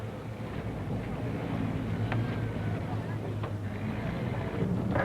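A water taxi's engine drones steadily at low pitch on a Venice canal, with wind and water noise and faint distant voices in the background.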